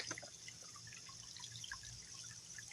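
Water trickling and dripping outdoors at a spot where someone stops to drink, faint and steady with scattered small drips over a low background hum.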